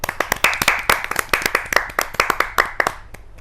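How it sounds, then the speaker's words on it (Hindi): Clapping at a Hindi kavi sammelan poetry gathering: a small group applauds in quick, uneven bursts that stay fairly loud throughout, then fade out at the end, with no talking over it. "इसके लिए एक बार जोरदार तालियां।"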